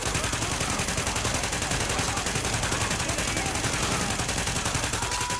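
Rapid, evenly spaced gunshots from The Division rattle on at close range, a loud, steady stream of sharp reports with no pause, and no one speaking.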